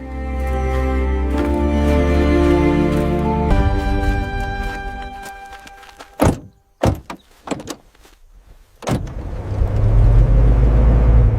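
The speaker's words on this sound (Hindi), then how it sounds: "गाड़ी चल पड़ी।" In a narrated story, a car heading toward the Attari border rumbles steadily, then goes through a sequence of thuds and door clunks before the engine swells again as it drives off.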